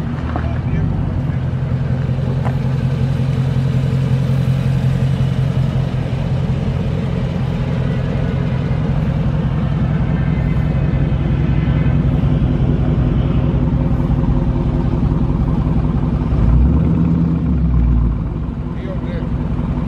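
A 2021 Dodge Challenger Scat Pack holds a loud, deep engine rumble during a line lock burnout, with wind buffeting the microphone and people talking over the steady roar.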